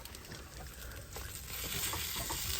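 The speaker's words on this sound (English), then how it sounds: "I just gotta mix it all together." Shepherd's pie mixture being stirred in a pan heating on a stove aboard a small sailboat, giving a steady soft scraping and sizzling wash that builds slightly louder toward the end, close by with no talk.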